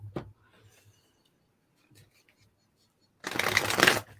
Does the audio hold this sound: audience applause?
no